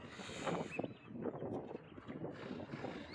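Steady wind blowing outdoors at sunrise on a road trip from Texas to Arizona, a continuous broadband rush with gusty swells and some buffeting across the microphone, loud and close throughout.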